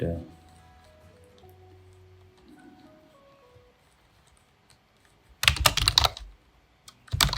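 Keywords typed on a computer keyboard: after a quiet stretch with faint tones, a quick burst of close, clattering keystrokes, then a few more at the end.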